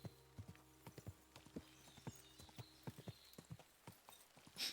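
Horse hooves clip-clop at a steady walking rhythm in the video game Kingdom Come: Deliverance 2, close and distinct over a low ambient drone, with a brief brighter noise burst at the end.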